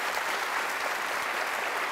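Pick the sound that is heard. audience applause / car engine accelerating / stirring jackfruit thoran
audience applause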